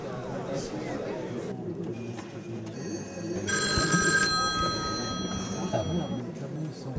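An old-style telephone bell rings on a theatre stage, a bright metallic trill that sounds for about a second amid a faint room murmur and background stage noise.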